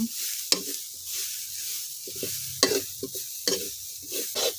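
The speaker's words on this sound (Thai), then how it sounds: "คั่วให้มะพร้าวของเรามีกลิ่นหอม" Grated coconut being dry-roasted in a pan over low heat, a spatula scraping and striking the pan every second or so with soft rustling between strokes and a faint sizzle, close and without speech.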